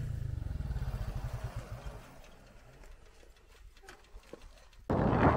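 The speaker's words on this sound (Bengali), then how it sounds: "যে আমাদের সাথে বাইক চলে আসছে।" A motorcycle engine putters rhythmically nearby, fading to a low idle before a sudden loud burst of noise at the end.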